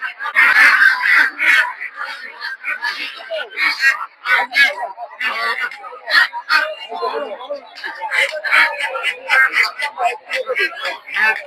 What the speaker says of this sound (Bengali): দেখতে পাচ্ছেন বেলজিয়াম হাঁস প্রচুর পরিমাণে বেলজিয়াম হাঁসের দিকে